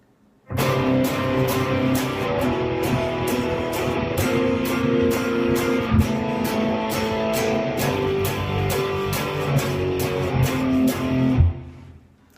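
Guitar chords strummed steadily and heavily in a dense continuous rhythm for about eleven seconds, loud and close, then cut off abruptly.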